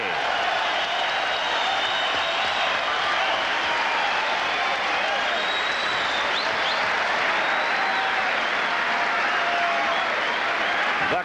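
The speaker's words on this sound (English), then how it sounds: "The crowd roaring from that." Sustained loud crowd roar with cheering and scattered applause fills an arena at a 1988 Olympic boxing bout after a furious closing rally, steady and dense throughout.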